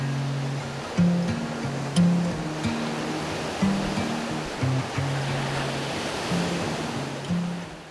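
Ocean surf on a Hawaiian coast where driftwood washes ashore: a steady, broad wash of breaking waves throughout, with a low tonal hum running underneath.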